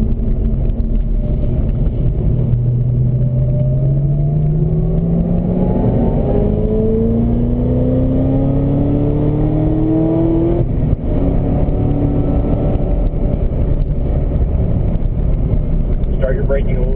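Chevrolet Corvette ZR1 engine on a race track, revving and climbing through gears with rising whines and a downshift, loud and continuous while an instructor talks over it.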